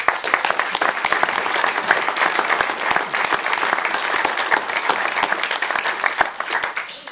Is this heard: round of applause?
yes